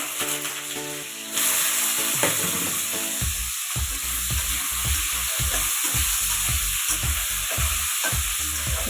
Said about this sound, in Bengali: আমি কালো জিরা দিয়ে আলুটা একসঙ্গে বাজিয়ে দিলাইমু।